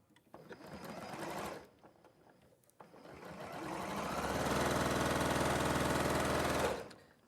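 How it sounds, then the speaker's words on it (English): Domestic sewing machine chain-piecing quilt triangles along their long edges for a bee wall hanging, running in a short burst, pausing, then a long steady loud whir close by. "you're going to sew along the long edge of your triangles"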